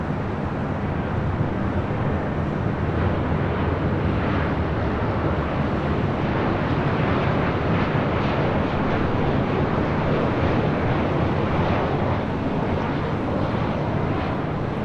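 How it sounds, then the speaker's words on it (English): American Airlines Boeing 737-800 arriving at LAX, a continuous broad jet roar filling the whole stretch at steady, loud level with no voices. "The American at 737-800 next up for arrival on 24 left."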